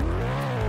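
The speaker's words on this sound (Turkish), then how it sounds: "Bu arabanın sesi bu değil." Engine drone of a car in a Roblox game, a steady low hum with a slight rising tone, continuous and fairly loud for a brief moment.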